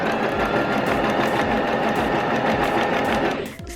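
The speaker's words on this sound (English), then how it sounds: "Just keep on sewing." A sewing machine stitching slippery silk fabric into a scrunchie, running as a loud, fast, steady mechanical whir that winds down abruptly at the end, with no voices.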